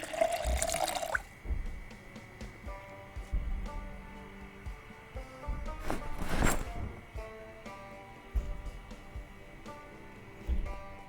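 In the video game Project Zomboid, water runs briefly from a tap, then drips and trickles faintly amid quiet background noise, with no talk.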